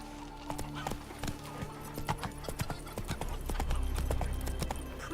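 Horse hooves clip-clop at a steady galloping rhythm in The Witcher 3, with a brief whinny and game ambience underneath, moderately loud and close.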